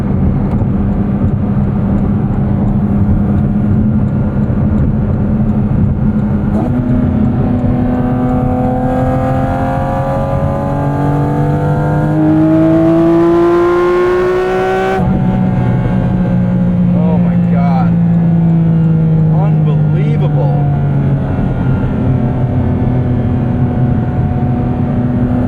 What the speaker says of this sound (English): not just exhaust noise, but induction noise